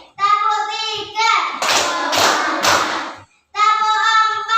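Hands clapping in a classroom as counted claps: three sharp, evenly spaced claps ring out in the middle, with children's voices speaking before and after them.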